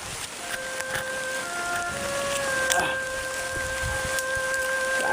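Heavy rain pours steadily in a mountain forest, a dense constant hiss of drops on leaves and ground, with faint tonal insect or bird lines threading through and no speech.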